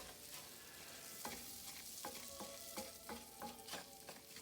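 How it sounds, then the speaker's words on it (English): Rice stirred in a pan as butter melts, a steady quiet sizzle broken by repeated scraping strokes of a spoon, fairly close and without voices. "I'm just gonna mix it right now, get that butter melted a little, get everything kind of wet and lubricated"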